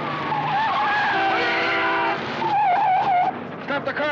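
A car skids with a long, loud tire squeal and harmonic screech, followed by a second shorter wavering squeal and clattering noise, all in the middle of a tense chase.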